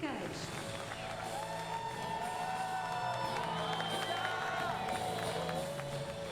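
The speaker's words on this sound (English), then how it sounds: "Well, the crowd celebrate." A large crowd cheers and whoops for the medalists at a Rio 2016 Paralympic judo event. A steady roar with scattered clapping fills the hall while an announcer speaks over it.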